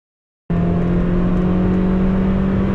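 A Mazda MX-5 out on a race track, its engine droning in a steady, loud hum that starts abruptly after half a second of silence and holds constant, heard from inside the car.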